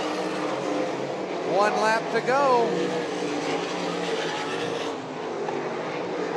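Twin Rivers RaceSaver sprint cars racing at Eagle Raceway, engines droning at a distance with a couple of rising and falling passes, under continuous announcer commentary.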